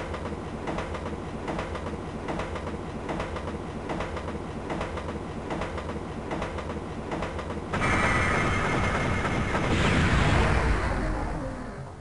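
A train rolling along the track in the video game Megaman Zero 2, a steady rhythmic rumbling clatter with repeating beats that swells into a louder, harsher roar near the end, with no voices.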